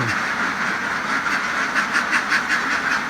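A dense crowd of ducks on a farm quacks loudly and steadily, many voices overlapping in a constant, close-up chatter.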